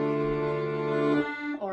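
Accordion playing a mournful, sad-sounding chord that holds steady before dropping into a softer, wavering shift near the end; a short, fairly quiet passage heard alone.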